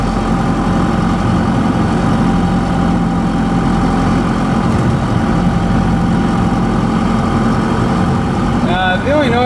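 A 4BT Cummins diesel swapped into a Ford F150, lugging at low speed in fourth gear: a loud, steady low rumble with heavy vibration running throughout, a brief squeal near the end.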